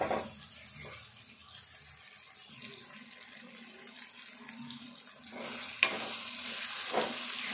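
Tomato egg curry masala cooking in a pan, with a steady soft sizzle and bubbling while a spoon scrapes and stirs through it; the frying brightens and grows louder in the last couple of seconds.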